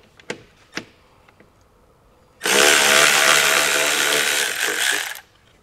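A power tool spins out 10mm bolts on a 2023 Kia Telluride, a loud steady whir lasting about three seconds after a couple of sharp clicks, close to the listener.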